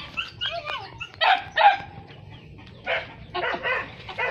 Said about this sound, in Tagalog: Ayan na po ang aming aso. Hinabol na ang mga manok.